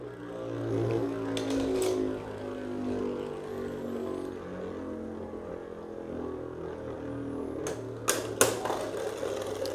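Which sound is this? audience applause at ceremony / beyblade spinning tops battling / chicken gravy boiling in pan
beyblade spinning tops battling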